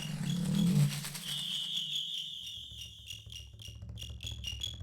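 Electronic tones imitating bird calls in an experimental piece: repeated high chirp-like pulses and a sustained whistle over a low droning bed, with a brief louder burst of low sound at the start.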